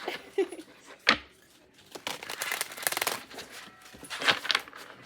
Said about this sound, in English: I did not feel like I shuffled that right.